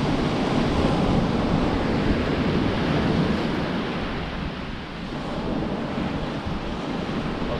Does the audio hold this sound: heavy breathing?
no